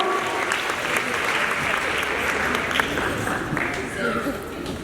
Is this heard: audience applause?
yes